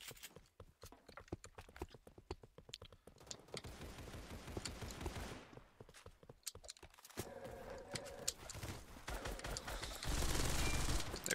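Gunfire in the Roblox game Weaponry, including a KRISS Vector, comes as rapid clattering bursts and rattling volleys that build into denser, louder firing toward the end.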